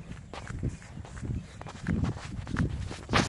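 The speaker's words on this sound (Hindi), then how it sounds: "तो दौड़ते हुए चलता हूँ।" Footsteps of a person running along an outdoor path, uneven thuds and scuffs at a hurried pace, moderately close.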